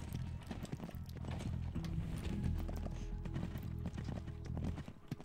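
Horse hooves clip-clop steadily through a Paladins match, a continuous rhythmic trotting under dense game effects and music, with an occasional whinny.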